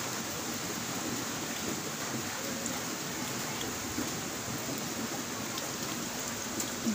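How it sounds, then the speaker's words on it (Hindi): Heavy rain pours down in a dense, steady roar that never lets up, with no voices over it. "कितनी जोर से बारिश हो रही है"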